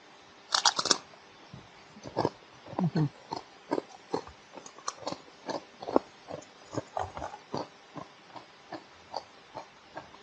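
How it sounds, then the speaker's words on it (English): Someone bites into and chews a crunchy, unusually shaped tortilla chip from a Sonoran-style Loco burrito box at El Pollo Loco, giving a series of close, sharp crunches in an irregular rhythm with no talk. "let me just try one chip"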